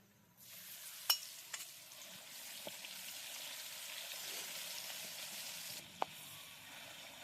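Ginger garlic paste fries with chicken for a village-style chicken pickle, a steady hissing sizzle starting abruptly and running several seconds, dotted with a few sharp clinks of stirring before it cuts off.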